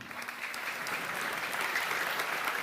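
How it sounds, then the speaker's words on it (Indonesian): An audience at a gathering gives continuous, even applause, many hands clapping steadily at a moderate distance, with no break. "tepuk tangan buat Mas Tomli"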